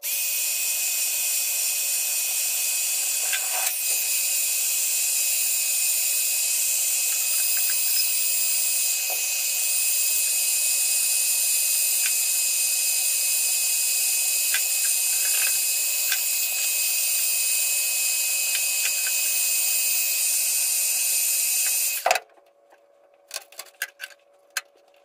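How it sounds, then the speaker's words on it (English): A heat gun warming seam sealer on a rusty 98 Mustang GT gives a steady high whine with a constant airy hiss that runs unbroken for about twenty seconds, then stops abruptly and leaves a few faint clicks and knocks. "The heat gun works on the seam sealer as well."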